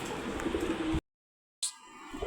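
A male Bagha Giribaz pigeon gives low, soft coos close by over a steady background hiss, then a brief full silence before the ambient noise returns.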